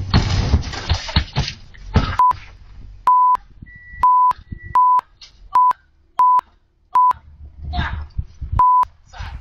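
An intercom rings repeatedly as a delivery man arrives: a string of evenly spaced, clean electronic tones, each lasting under a second. People talk and there is rustling before and after the ringing.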